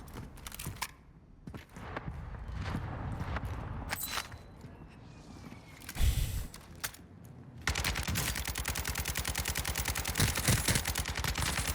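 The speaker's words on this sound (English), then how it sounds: "we just sprayed the shit out of him with our weapon" Rapid automatic weapon fire in the video game Warzone 2, sharp repeated bursts with short gaps, then a dense sustained spray of shots near the end, loud and close.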